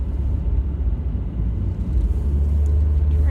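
Low, steady road rumble inside a heated car while driving, a continuous close drone with gentle swells and no talk over it.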